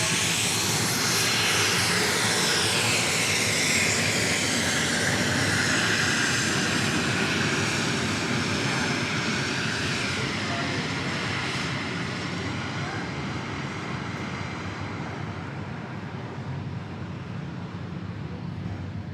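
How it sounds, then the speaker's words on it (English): Southwest Airlines Boeing 737 MAX 8 jet at Dallas Love Field, a loud, steady engine roar that holds strong throughout and eases only slightly near the end, with a broad whooshing rush and shifting tonal sweeps as it passes. "we also have Southwest Airlines on a MAX 8 going to St."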